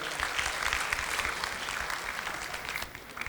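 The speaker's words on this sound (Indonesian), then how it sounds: "Beri tepuk tangan untuk Bapak Ahmad Mardiansah." Audience applause for a presenter introduced to speak on connection load balancing with MikroTik, steady dense clapping filling the room throughout, fading slightly near the end.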